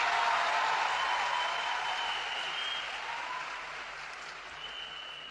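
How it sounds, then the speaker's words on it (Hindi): Applause from an audience at a public speech rises as a dense, steady wash of clapping that fades slowly as it goes on. It is heard alone, with no voices over it. "तो एक बार जोरदार तालियां देश के प्रधानमंत्री नरेंद्र मोदी जी के लिए।"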